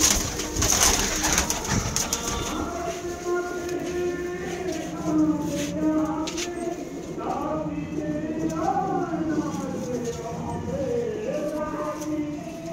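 Malwai pigeons coo close by in soft repeated rolling calls, with a few scuffs and light knocks in the background.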